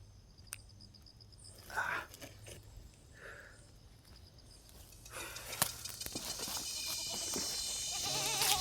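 Goats bleat faintly a few times against a low, quiet background, with distant voices and outdoor clatter growing louder toward the end.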